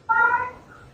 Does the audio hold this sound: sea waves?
no